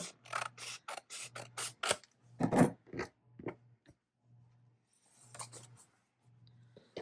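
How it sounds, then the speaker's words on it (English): Paper being trimmed for a handmade journal signature, close scraping and cutting strokes in short rhythmic bursts, then a pause before a few softer strokes, quiet and without speech. "Yeah, I think I need to trim a little bit more. Let me trim a little bit off the top."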